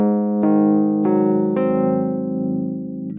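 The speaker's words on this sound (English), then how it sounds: "So with all that said, and played more simply, the tritone substitution sounds like this." A tritone substitution chord progression played simply on a sustained keyboard, with three chords struck in sequence, each ringing out and slowly fading, clear and alone.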